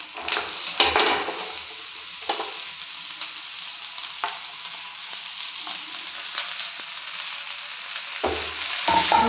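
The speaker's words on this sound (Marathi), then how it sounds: "ढबू मिरची पण परतून घ्यायची आता" Capsicum sautéing in a pan with a steady broadband sizzle, broken by a few scraping stirs and light clinks of a spoon against the pan, close and moderately loud, with no talking.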